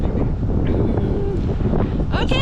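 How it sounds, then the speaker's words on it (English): Wind roars steadily across a microphone on the bow of a ferry crossing from Balfour to Kootenay Bay, a loud constant rumble with gusty buffeting and a brief voice near the end. "It's windy out here."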